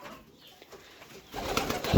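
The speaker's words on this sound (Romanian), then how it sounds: "cam ăștia sunt porumbei de ornament pe care eu îi dețin" Ornamental pigeons coo softly in a loft, low murmuring calls with rustling and a burst of wing movement growing louder toward the end.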